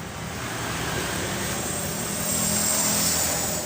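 Honda Vario 110 scooter engine idling with the battery's positive cable removed, a loud, steady, close mechanical drone that holds constant without sputtering.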